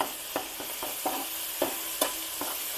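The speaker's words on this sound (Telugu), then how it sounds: "ఇది పచ్చివాసన రాకుండా చక్కగా వేయించుకొని" Ginger garlic paste fries in a pan with a constant close sizzle, broken by several light scraping taps as it is stirred, and no voices.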